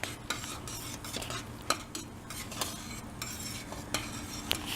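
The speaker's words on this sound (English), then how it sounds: "We'll cook this for another minute or 2, and then we'll stop it and stir it down" Gardenia jelly cooking in a pot, a soft bubbling simmer with regular sharp clinks and scrapes of a spoon stirring against the pot, fairly quiet and close.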